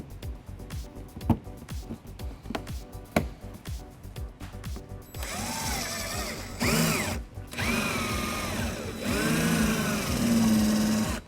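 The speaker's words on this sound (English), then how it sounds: "we're going to drill out the center of it using a small drill bit" Small drill bit boring out plastic trim rivets on a 2015 BMW X5 during a trailer hitch installation: short sharp bursts at first, then a longer rising and falling whine of the drill as it works through.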